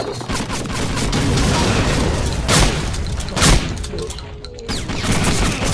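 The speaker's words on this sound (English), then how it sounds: "Throw all the grenades there" Grenades explode in the shooter video game Blade of Agony, a rolling barrage of loud booms and crackling blasts, with two sharp heavy detonations standing out before a brief lull and more rumbling.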